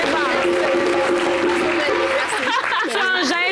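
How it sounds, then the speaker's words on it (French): A studio audience on a summer-holiday TV show applauds loudly and continuously, a thick wash of clapping with music and voices mixed in, and talking rising near the end. "Est-ce qu'on peut l'applaudir?"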